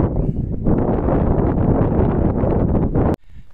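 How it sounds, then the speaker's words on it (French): Wind blows hard across an open garrigue camping spot in Morocco, roaring against the microphone as a steady, loud rush that cuts off abruptly near the end. "Il y a un peu de vent, on l'entend."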